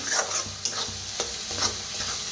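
Chicken being stirred and fried in oil with Kolhapuri red masala, giving a steady close sizzle broken by repeated scraping strokes of the spoon against the pan.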